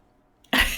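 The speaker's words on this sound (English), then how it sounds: "I need to do a big cough" A single loud, close cough bursts out after a short silence, from someone whose water went down the wrong way.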